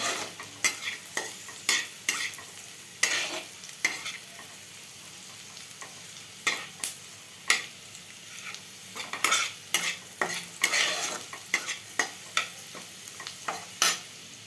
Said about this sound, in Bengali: এবার আমি এটাকে ভালো করে নাড়ছি।